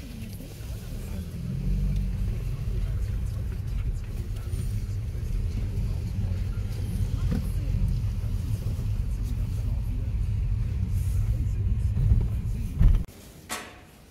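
A car slowly circling a small hospital parking area, a steady low cabin rumble that runs for several seconds before ending in a brief thud and near quiet.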